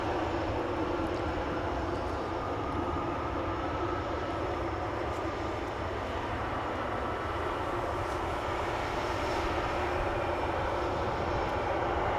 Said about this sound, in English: Still a departure taking place from the center runway